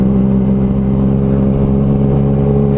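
A Yamaha MT-09 motorcycle fitted with an aftermarket exhaust idles and revs loudly and close, a steady deep droning roar that holds throughout without any break.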